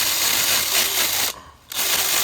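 A chainsaw-style drill bit conversion adapter on a power drill cuts through wood, a loud steady buzzing grind that drops out briefly near the middle and then resumes at full strength.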